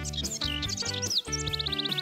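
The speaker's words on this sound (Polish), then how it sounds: "Hej, ptaki brzmią tak pięknie." Cartoon songbirds in a springtime singing practice chirp and trill in bright, quick bursts over a sustained melodic musical backing, steady and fairly close throughout.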